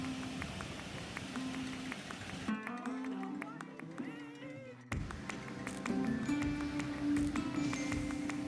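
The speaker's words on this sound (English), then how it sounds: "It's starting to rain." Rain beginning to fall on a Hawaiian beach at sunset, a steady pattering wash mixed with ocean surf and background noise, with brief bursts of music or clatter breaking in partway through.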